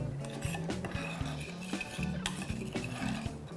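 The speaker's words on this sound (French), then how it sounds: "j'aime ça utiliser vraiment le dos de ma cuillère comme ça pour vraiment écraser les morceaux d'ail et pour vraiment mélanger la moutarde avec l'huile" A metal spoon back crushes garlic pieces and mixes mustard with oil in a bowl, giving steady scraping and rubbing with small clinks. No one speaks.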